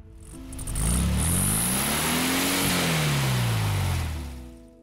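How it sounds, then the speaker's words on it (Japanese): A speeding kei car's engine growing loud as it approaches and passes, pitch climbing then falling in a Doppler sweep, near and prominent before fading away. "すると後方から大きなエンジン音がした。"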